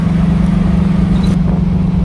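A 1973 Ford Mach 1's engine runs steadily while driving, a continuous low rumbling drone with a constant hum throughout and no talking.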